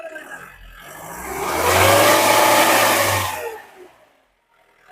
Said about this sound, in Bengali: ভাই একটু অ্যাক্সিলারেটরটা বাড়ি দিন।